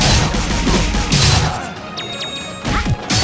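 Crashing bursts of gunfire and heavy impacts in the Indivisible role-playing game, dense and loud, with a few metallic ringing hits and whooshes near the end.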